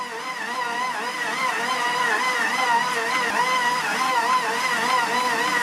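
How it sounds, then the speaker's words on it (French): ALDI Ambiano MD 18684 800 W stand mixer kneading 1 kg of flour, a steady loud motor whine with a wavering pitch that holds constant throughout, alone with no talk. "On sent que le moteur ralentit un petit peu"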